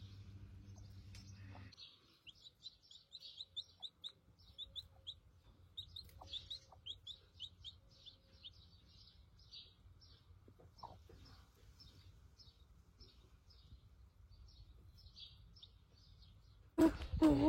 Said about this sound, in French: Il y a les bébés poussins, ils sont arrivés.